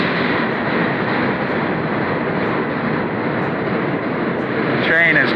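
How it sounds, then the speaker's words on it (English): A train rolls into a station with a loud, steady rumbling roar that fills the whole stretch and swells slightly near the end, close by. "Train is coming in, as you could hear."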